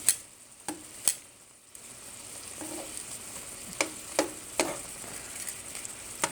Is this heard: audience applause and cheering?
no